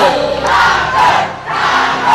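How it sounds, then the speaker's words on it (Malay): Loud crowd cheering and shouting at a school cross-country championship, a continuous roar of many voices with rising swells, close and sustained throughout. "Sorakan yang kuat"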